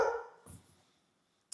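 Dogs bark in a short burst at the start, fairly close, then fade into quiet room noise; a faint sharp sound follows near the end.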